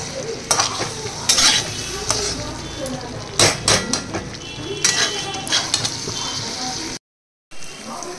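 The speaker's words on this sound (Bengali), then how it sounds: "এবার আলুটা দিয়ে মশলাটা আরেকটু কষাবো" Potato fried with spice masala in a pan, loud close sizzling with repeated scraping and clinking of a metal spoon against the pan in irregular bursts, briefly cut to silence near the end.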